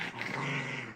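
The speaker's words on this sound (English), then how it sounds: "he's not growling at me. He's growling at the rope." A dog growls at a rope, one short, low, rumbling snarl held close and clear for about a second.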